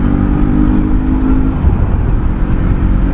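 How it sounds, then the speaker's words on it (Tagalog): Yamaha MT-03 321cc motorcycle accelerating hard, a loud, close engine roar that rises in pitch and then holds as the revs climb, with wind rush and no talk. "Ang bilis pumick up ng bike, ang bilis umangat ng RPM."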